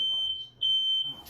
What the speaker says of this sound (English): the alarm beeps for no reason here